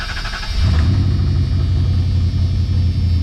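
A Dodge car with a no-start fault cranks and catches, then settles into a steady, close, low engine rumble that keeps running without talk.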